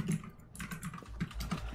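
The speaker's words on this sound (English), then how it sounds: "I hear you typing, Sky." Rapid keystrokes rattle on a computer keyboard during a livestream, a quick uneven run of close clicks and taps with a heavier thump near the end, no voices over it.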